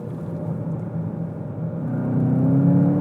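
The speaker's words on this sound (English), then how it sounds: "For a turbocharged engine, this thing really feels like it wants to rev." Turbocharged engine of a 2019 Volkswagen Jetta GLI heard from inside the cabin, a steady low drone that swells and climbs in pitch as the revs build toward the end, with no talking.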